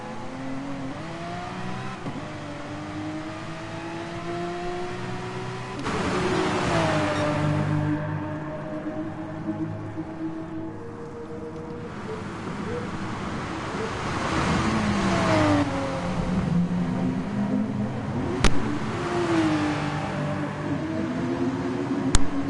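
Porsche Cup race cars in Gran Turismo Sport roar around the Austria circuit, with engines climbing and dropping through gear changes as cars pass close by, loud and continuous.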